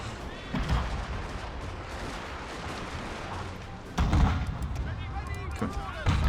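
Artillery fire booms in a video game, heavy blasts landing around the one- and four-second marks and near the end over continuous battle noise, with a voice talking over it.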